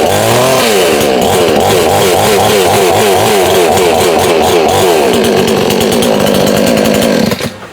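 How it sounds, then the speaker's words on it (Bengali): A petrol-powered chainsaw tree-cutting machine is pull-started and runs loudly and continuously up close, its engine revving and fluctuating throughout before cutting off abruptly at the end. "এই যে আমি আপনার সামনে দেখাচ্ছি, প্রত্যেকটা টানে টানে স্টার্ট।"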